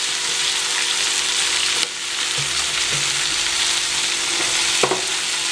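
Red amaranth greens with turmeric are stirred in a hot pan: a loud, constant sizzling hiss broken by a few scraping strokes of the spatula and a sharper knock near the end.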